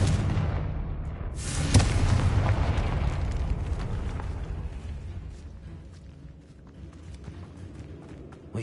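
A Confringo spell blast in the game Hogwarts Legacy, a booming explosion with a sharp crack early on, then a long rumbling, crackling decay that fades gradually.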